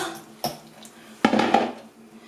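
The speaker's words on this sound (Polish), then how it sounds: "Dodaję warzywa. Wszystkie warzywa." Vegetables tipped into a pot while making homemade mushroom soup, with a sharp clatter followed by a louder burst of tumbling, splashing contact against the metal pot, then settling; no talk.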